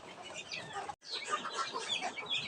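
A hen and her chicks in a backyard flock, with busy clucking and soft chirping close by. It runs continuously apart from a brief break near the one-second mark.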